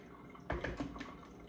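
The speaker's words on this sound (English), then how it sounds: "And once again, pouring in a circular motion." Hot water is poured in a circular motion into a Hario V60 coffee dripper over coffee grounds. The splash and drip is soft and brief, with a short burst of liquid near the start before it trails off.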